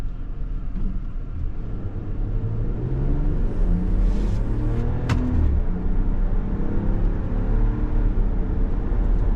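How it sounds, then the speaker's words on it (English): A 2026 Ram 1500 Laramie 4x4 pickup accelerates down the road in sport mode, heard from inside as a steady, fairly loud low engine and road rumble that swells slightly over the run. "Gets up and motors down the road."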